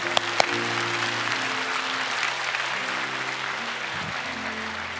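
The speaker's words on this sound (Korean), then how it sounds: "우리 목사님 나오실 때 큰 박수로 환영해 주시기 바랍니다" Applause from a church congregation welcoming the senior pastor to the stage, a steady dense wash of clapping lasting throughout with a few sharp claps near the start and low tonal hum beneath.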